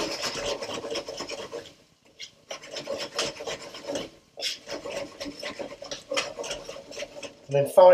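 Spoon scraping and stirring prawn curry in a pan as coconut powder goes in, a steady rasping rhythm in close bursts with brief pauses, louder toward the end.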